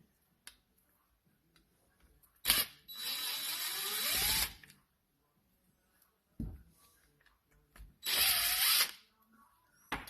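Electric screwdriver working on the screws of a Honda N600 carburetor fuel bowl, with two loud whirring bursts of a couple of seconds each, rising in pitch as they spin, separated by quiet clicks and handling noise.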